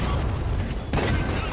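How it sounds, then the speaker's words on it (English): Artillery shell explosion in a tank video game, a sudden heavy boom cutting through continuous rumbling game noise, close and loud. "Artillery nailed me."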